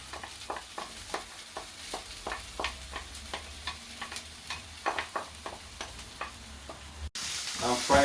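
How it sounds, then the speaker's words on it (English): Onions, garlic and vegetables fry in a pan with a soft, continuous sizzle, punctuated by regular clicks and scrapes of a utensil stirring, fairly close and quiet. "I'm frying my onions and this."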